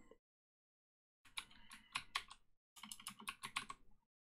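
Typing commands into the Fish shell on a computer keyboard: two quick bursts of close, crisp key clicks separated by a short pause, with no talking.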